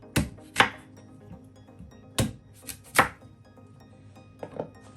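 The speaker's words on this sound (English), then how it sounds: "I like to take a small knife, and then I'm going to remove the skin of the cassava." A small knife strikes and scrapes cassava skin in a few sharp, close cuts, with irregular pauses between bursts and no talking.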